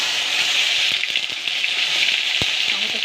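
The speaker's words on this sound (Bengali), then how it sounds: "টমেটোটা আমি খুব সুন্দর করে ভেজে নিলাম" Chopped tomatoes fry in a pan with bay leaf and whole cumin, a steady close sizzle with a few soft clicks and taps throughout.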